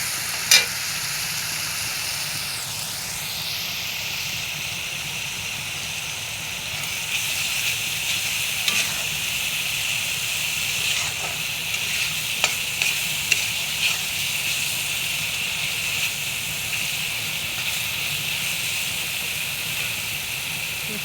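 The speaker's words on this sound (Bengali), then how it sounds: "আমি আরও অল্প কষিয়ে নেব।" Onion paste and fish curry sautéing in hot oil in a pan, a steady continuous sizzle and hiss with occasional stirring scrapes and small pops, close and alone without talk.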